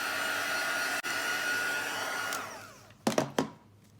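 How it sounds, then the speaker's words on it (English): A craft heat tool blowing hot air to dry embossed craft work, a loud steady whooshing roar that cuts off near the end, followed by a few clunks as it is set down. "we're going to bring the heat tool back in. We're going to dry that"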